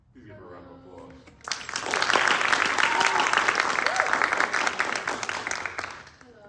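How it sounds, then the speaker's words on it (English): After a brief spoken introduction, an audience at a December 2023 CCHS high school drama production breaks into loud, sustained applause for the director, dense clapping that swells and holds for several seconds before tapering off. "Please give her a round of applause."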